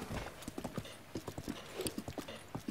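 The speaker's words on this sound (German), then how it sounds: "Böses Pferd." Rapid hoof clip-clops from a horse in The Legend of Zelda: Breath of the Wild, a quick irregular trotting rhythm of sharp knocks, fairly close and steady throughout.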